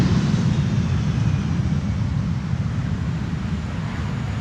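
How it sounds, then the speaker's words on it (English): Landing airliner on a gusty crosswind approach at Amsterdam Schiphol's Polderbaan runway, its thrust reversers spooling up into a steady, heavy low roar mixed with wind buffeting, continuous and fairly loud throughout. "It did spool up the reversers, but only slightly and a bit too late, I think."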